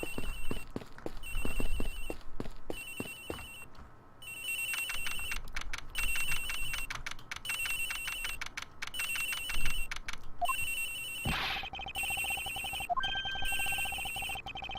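A telephone ringing in the Ace Attorney Investigations video game, aboard a plane, repeated electronic ring bursts in a steady pattern over clicking game sounds.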